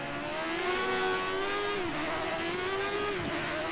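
An F1 race car engine in the video game F1 2013, modded to the 1988 season, screams at full revs with a steady high whine that dips briefly at gear changes, loud and continuous.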